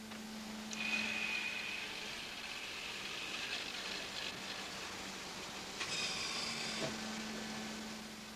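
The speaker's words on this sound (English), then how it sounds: "This machine cuts out shapes for envelopes." A factory machine cutting envelope shapes from pink paper runs with a steady mechanical drone and hum, with a brief rise around the middle and another near the end, continuous and fairly quiet with no speech.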